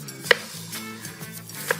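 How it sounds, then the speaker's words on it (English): A knife chops through fibrous taro root on a board, with two crisp sharp chops and lighter taps between them, close and alone over a faint low hum. "Chop it up and boil it to then mash it"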